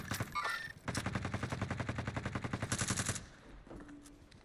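A rapid burst of automatic gunfire in Warzone rattles out in a fast even rhythm for about two seconds, loud and close, with a few scattered shots before it and a faint tail after.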